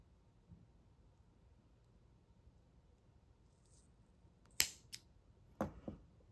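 A couple of sharp scissor snips cutting fuzzy yarn ends off handmade DIY shoelaces, close and crisp after a quiet stretch, with a few small handling clicks.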